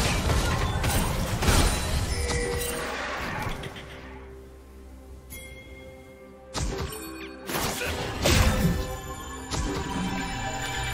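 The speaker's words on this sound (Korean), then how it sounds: "빨간 팀의 포탑이 파괴되었습니다." Red team's turret gets destroyed in League of Legends, a ranked Korean Grandmaster match between Rakan and Tristana and Rell and Kalista: heavy crashing impacts and whooshes over game music, a lull, then fresh bursts of loud hits.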